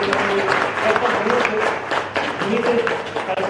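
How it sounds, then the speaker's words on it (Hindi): A seated audience at a palmistry day gathering claps steadily, a continuous broadband patter with a voice talking over it. "तो ऐसा लग रहा है कि ताली कम बज रही है"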